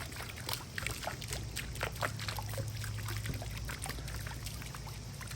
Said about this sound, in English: Our pump is pumping.